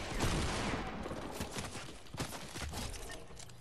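Gunfire in the Fortnite video game, a dense rattle of rapid shots blending into a steady loud barrage of noisy bursts for the whole stretch, with no speech over it.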